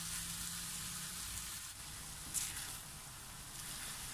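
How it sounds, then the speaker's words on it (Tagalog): Pork sautés in a pan with a faint, steady hiss of sizzling, broken by one brief louder crackle midway, quiet and continuous throughout. "Ituloy lamang po natin ang paggisa. Gisahin po natin ito for about 5 minutes."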